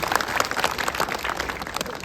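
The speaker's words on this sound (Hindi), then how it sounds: "एक बार अपने लिए जोरदार तालियां बजाएं।" An audience at a political gathering in Delhi claps heartily, a thick, fluttering wash of applause that swells and dips slightly throughout without talk.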